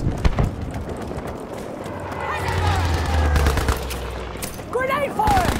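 Gunfire and grenade blasts in the Battlefield V multiplayer battle, with scattered shots over a low rumbling explosion in the middle, dense and fairly loud, under occasional speech and game voice callouts.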